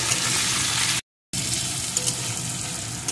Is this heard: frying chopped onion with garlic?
yes